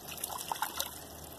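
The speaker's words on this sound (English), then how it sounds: "let me wash my hands off" Tap water running while hands are washed, a faint, steady trickle with a few brief splashes and drips, close by and with no talking.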